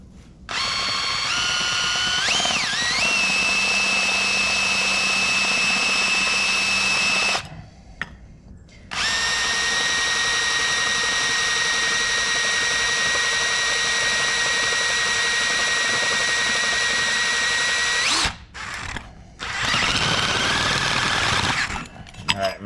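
A power drill bores a hole for a bung during supercharger air-fuel ratio work on a 1961 VW Beetle. It gives a loud, sustained whine in long runs with the pitch shifting under load, broken by brief pauses.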